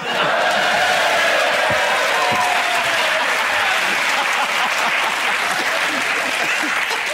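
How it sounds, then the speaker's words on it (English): A studio audience at a British panel comedy show claps in a loud, continuous wash that holds steady throughout, mixed with some murmuring and cheering. "This audience will applaud anything."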